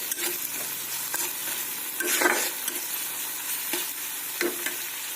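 Ginger and garlic frying in a pan while being stirred, a continuous gentle sizzle with a few soft scrapes of the spoon, no voices.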